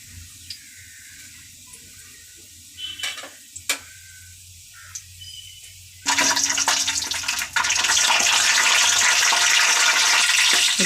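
Whole spices, bay leaf and star anise dropped into hot oil for vegetable biryani, with a few faint clinks at first, then a sudden loud sizzle bursting up and crackling continuously close by.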